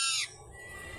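A parakeet gives a sharp, loud squawk while being handled, then falls quiet against faint background noise.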